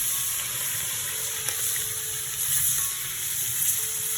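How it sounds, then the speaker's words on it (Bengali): Katla fish frying in hot oil in a kadai, with a constant close bubbling sizzle and a few faint clicks, no speech. "পড়ে গেছে আবার মাছ ভাজা হচ্ছে"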